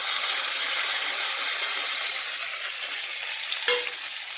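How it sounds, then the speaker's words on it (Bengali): Potatoes fry in a pan with ginger, green chili paste and a whole tomato, making a steady, close sizzle with one sharp clink of a utensil near the end. "আদার গন্ধটা যাওয়া পর্যন্ত কষিয়ে নেব"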